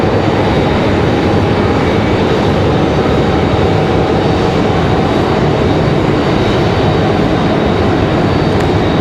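Airliners at Raleigh Durham airport, a loud, continuous broadband jet engine roar that stays steady and close throughout with no pauses.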